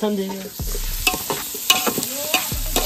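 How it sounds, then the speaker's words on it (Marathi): Onion sizzles steadily in hot oil in a pan, close up, with a spatula scraping and clinking as it is stirred. "कांदा तेल मध्ये कांदा टाकलेला आहे फ्राय करून घ्यायचा"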